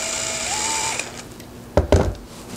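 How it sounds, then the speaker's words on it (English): A power drill backs screws out of a solid wood ceiling fan, with a steady motor whine for about a second, then two sharp, close clunks. "Took the screws out right now."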